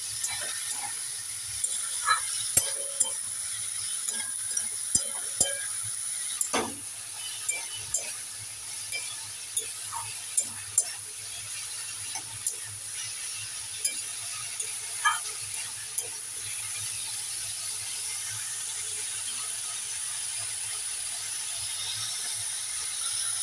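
Shrimp and chichinga (snake gourd) stirred in a pan for a poppy-seed shrimp dish: irregular spatula clicks and scrapes over a faint, low sizzle, close by and without talk.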